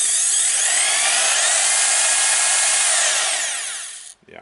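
A Makita HR2611FT rotary hammer, freshly overhauled, runs continuously at high speed with a loud whining motor for about four seconds, then winds down and stops.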